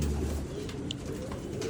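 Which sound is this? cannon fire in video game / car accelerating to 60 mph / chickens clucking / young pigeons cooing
young pigeons cooing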